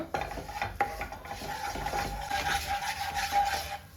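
Maida flour being stirred into melted butter in a pan for white sauce: a soft, steady rubbing and scraping of a spoon with faint sizzling, close and continuous with no talk.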